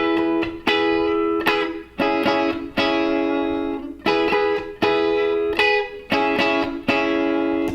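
An electric guitar plays a rhythm of power chords topped with harmonized triads on the top three strings, with strummed chords ringing in repeated bursts and clean stops between them, loud and alone.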